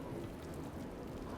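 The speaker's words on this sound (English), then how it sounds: "The chilly November air filled the room as the soft sounds of the rain doubled in volume." Rain falling steadily outside an open window on a chilly November night, a continuous soft hiss and patter with a low rumbling undertone, even and unbroken throughout with no voices.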